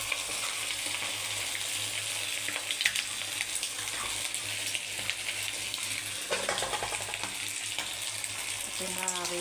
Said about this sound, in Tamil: லெக் பீஸ் வாங்க எண்ணெயில் போடலாம்.